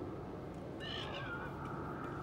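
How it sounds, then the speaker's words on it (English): Birds calling in the video game Morrowind, a few faint high warbling chirps over a constant loud windstorm roar. "And more birds."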